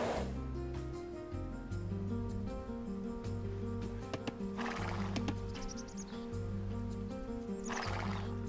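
A scout cavalry horse in Age of Empires II neighs loudly over a steady bed of game music, with clip-clop hooves and a second whinny near the end.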